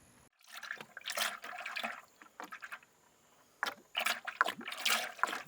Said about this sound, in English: I'm gonna mix it up now.